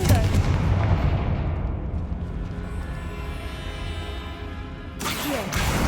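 A Confringo fire spell bursts in a Harry Potter video game, a loud explosive blast that rolls into a long rumbling decay, with a second sharp burst near the end.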